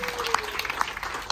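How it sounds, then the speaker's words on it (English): Applause from cruise guests at a platinum and diamond party aboard the Carnival Elation, a moderate, steady patter of clapping from a crowded room with crisp individual claps standing out. "A big round of applause for all our milestone cruises."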